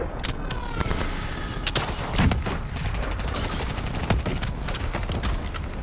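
Gunfire from Call of Duty Black Ops 3, a steady stream of sharp shots and impacts at moderate distance, with a few louder cracks near the middle, over a busy combat background.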